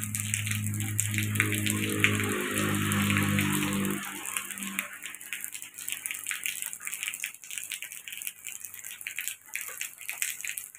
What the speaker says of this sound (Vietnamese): Cái này cho gọi là cái mưa đầu mùa nè, mà mưa sớm nè